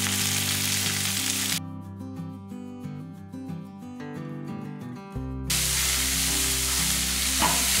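Spices and torn coriander leaves sizzle and hiss in a pan for a drumstick-leaf chutney, steady frying noise broken by a stretch of musical tones before the sizzle returns.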